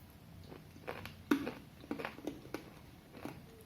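Crunchy bites and chewing on a Candysan candy with a liquid centre, a handful of soft, quiet crunches spaced irregularly over a few seconds, close to the mic.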